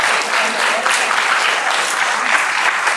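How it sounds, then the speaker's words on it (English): Loud, sustained audience applause following a legislative theatre scene in Caloundra, a thick even roar of clapping hands with no pause. "Give them a round of applause"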